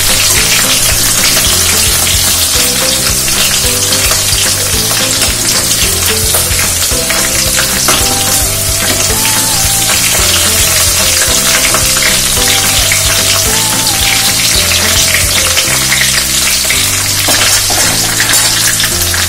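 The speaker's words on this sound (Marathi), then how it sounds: "मिरच्या आणि लसूण छान कलकू द्यायचं आहे म्हणजे त्याचा फ्लेवर पिठलं पिकवणार आहे." Green chillies and garlic frying in hot oil in a pan for a Maharashtrian shepu-palak pithla, giving a loud, steady, continuous sizzle with crackling bursts throughout and no talking.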